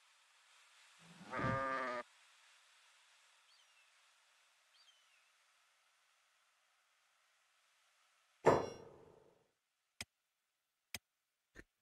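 Goats in the video game Kenshi give one clear bleat near the start and a second later on, separated by quiet, followed by a few sharp ticks.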